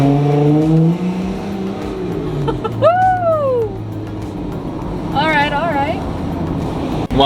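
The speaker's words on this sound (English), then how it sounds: "The engine's like backfiring and everything." A Jeep Wrangler on 31-inch tires, fitted with a Pedal Commander, roars as it accelerates on a quarter-mile run, with a loud engine and wind rush. Passengers whoop and talk over it with rising, swooping cries.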